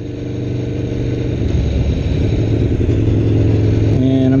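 A 2016 Aprilia Tuono V4 1100 RR engine pulls hard under throttle, a loud rising drone that climbs steadily and shifts pitch near the end, no one speaking.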